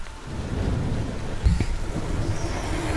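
A thunderstorm in the video game A Plague Tale: Innocence, steady heavy rain with a sharp rumbling thunder crack in the middle.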